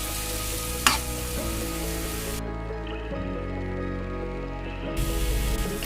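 Grated raw mango fries in a pan for mango thokku, an even, close sizzle with occasional stirring, one sharp clink early on and sustained tonal background sound throughout.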